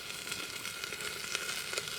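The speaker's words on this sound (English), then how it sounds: "So I'm cooking up another fillet of coho" A coho salmon fillet from Prince Rupert, British Columbia, fries in a pan in a tiny bush cabin in winter, producing a steady, close hiss of sizzling oil with small crackling pops.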